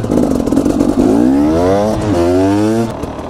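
A motorcycle engine runs nearby, rumbling loudly and then winding down in pitch as it slows over a few seconds.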